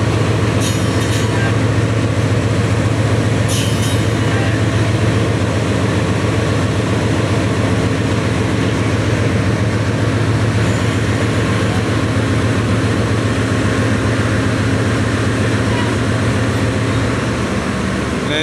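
A train locomotive being uncoupled at Lahore Junction in Pakistan, giving a continuous heavy engine rumble with a couple of brief metallic squeals early on. The sound is loud and steady, with no talking.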